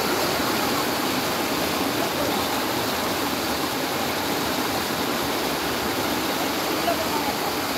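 A waterfall in the Nilambur forest roars as a dense, steady rush of water that fills the whole stretch evenly from start to finish.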